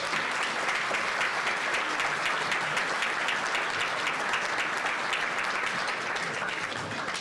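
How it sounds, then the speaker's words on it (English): Sustained audience applause at the annual St. Patrick's Day luncheon, a dense, even wash of many hands clapping that holds steady throughout and stays fairly distant and moderate in level, with no voices on top. "a big round of applause for our friend Robert Lewis Jr."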